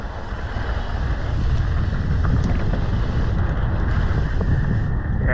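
Strong gusting wind roars across a ski slope, buffeting the microphone in a loud, continuous rumble with a steady hiss, unbroken for the full few seconds.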